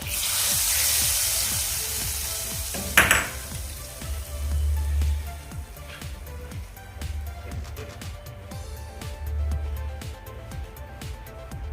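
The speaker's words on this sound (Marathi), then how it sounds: "आणि फोडणी आपण" Hot tempering oil with red chilli and green chillies is poured over chickpeas, giving a burst of splashing sizzle followed by a softer, lingering crackle and hiss with small pops.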